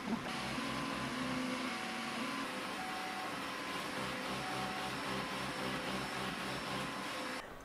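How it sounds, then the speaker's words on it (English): A 3D printer runs at high speed with a steady mechanical whir and motor whine, with rapid pulsing movements throughout. It is heard close up with no talking. "It makes a big difference when printing at high speeds like this."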